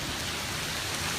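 Rain pours during an Oklahoma thunderstorm with strong winds, a dense steady hiss of drops on surfaces, close and continuous with no voices.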